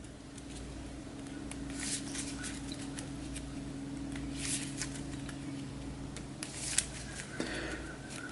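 Playing cards shuffled back into a deck during a Star Wars Outer Rim board game session, a soft riffling and papery patter close by over a steady low hum, with a few sharper snaps near the end.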